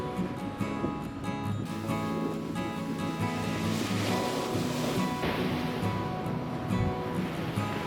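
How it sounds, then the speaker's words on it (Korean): Ocean waves wash steadily onto an empty Myeongpa Beach in Goseong, Korea, in late autumn, a continuous broad roar of surf with some wind noise and no voices. "명파해변의 파도는 유난히 쓸쓸해 보이네요."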